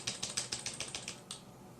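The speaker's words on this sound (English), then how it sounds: "I am using a wireless keyboard" Rapid keystrokes on a wireless computer keyboard, about a dozen crisp clicks in quick succession then a brief pause and one more, close and clear with no voices.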